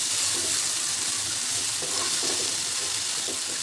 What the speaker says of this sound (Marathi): ठेच्याचा कच्चेपणा कमी होईपर्यंत परतून घ्यायचं.